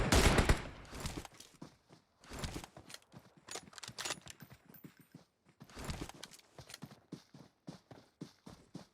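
Bursts of machine gun fire ring out in the battle royale game PUBG Mobile during a competitive scrim, several rapid volleys spread across the clip, loud and close, with gaps between them and no talking.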